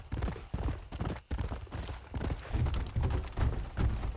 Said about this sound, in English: There's my horse. Now let's go.